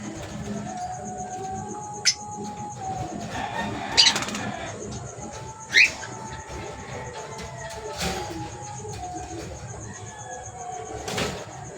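Pet birds, including a green split opaline cock, chirp and coo in a home aviary, with a few sharp calls and occasional wing flutters over a faint hum, while quiet voices talk in the background.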